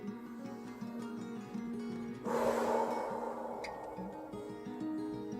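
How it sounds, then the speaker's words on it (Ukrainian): A deep breath drawn in through the nose and let out through the mouth during a relaxation exercise for children, an airy breath swelling midway over a soft background. "Робимо глибокий вдих носом і видих ротом"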